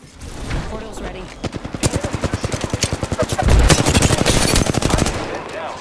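Rapid automatic gunfire in the Apex Legends video game, loud, tightly spaced bursts that start after a quiet opening and keep going to the end, with faint voices early on.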